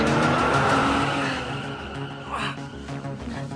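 A car speeds off in a fast loud roar of engine, then drops to a quieter cruising hum with a brief squeal midway, heard alone without talk.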